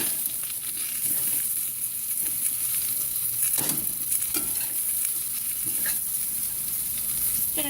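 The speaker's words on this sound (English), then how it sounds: "The pan's nice and hot. We'll just stir that around," Spinach being stirred around in a hot frying pan, a steady close sizzle running throughout with several sharper scraping stirs of the utensil against the pan.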